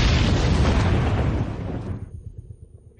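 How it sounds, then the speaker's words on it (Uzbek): A film explosion bursts loud and close, a roaring blast with crackling debris that rumbles on and dies away over a few seconds. "Diqqat, portlash sodir bo'ldi."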